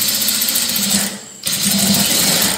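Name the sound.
sewing machine stitching a lined churidar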